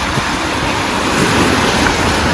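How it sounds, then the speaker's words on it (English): Ocean waves rush behind a moving sailboat at sea. The sound is a loud, steady wash with wind buffeting the microphone throughout. "The waves are coming, but they're not big."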